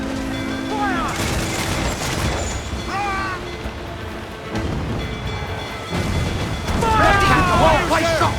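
Cannon and musket volleys roar in Assassin's Creed 4 Black Flag, a dense rumbling barrage of overlapping blasts under shouted voices, with a burst at the start and a heavier swell near the end.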